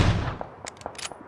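A single sharp AWP sniper rifle shot from PUBG cracks loudly at the start and decays into a rumble. Faint clicks and thuds follow, with no voices.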